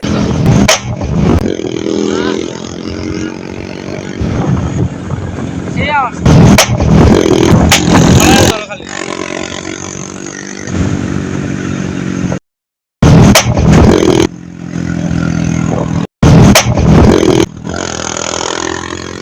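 A TVS Apache RTR 2V motorcycle fitted with a loud aftermarket exhaust revs and roars in bursts, close and very loud, with abrupt cuts between passes and people talking over parts of it.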